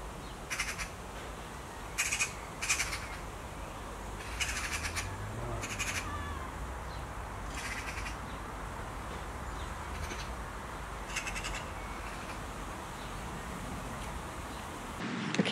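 Magpies give harsh, chattering calls in a park, in short scattered bursts over steady outdoor background noise, some near and some farther off, with no talk.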